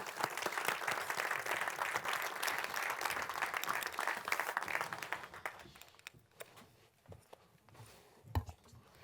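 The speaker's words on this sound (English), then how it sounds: "Let's give her a warm round of applause." An audience at a business event applauds as a speaker walks onstage, dense clapping for about five seconds, then thinning to a few scattered claps and soft rustling.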